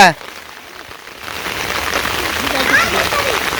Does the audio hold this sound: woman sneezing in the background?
no